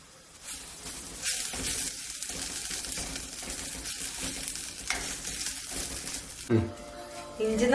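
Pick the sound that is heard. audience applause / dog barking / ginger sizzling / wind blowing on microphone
ginger sizzling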